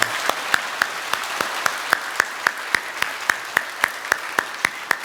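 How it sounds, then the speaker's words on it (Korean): A church congregation at a Sunday worship service claps in unison to welcome newcomers, about twenty evenly spaced, steady beats at a moderate pace, sounding full and somewhat distant in a large room. "우리 박수로 환영하도록 하겠습니다"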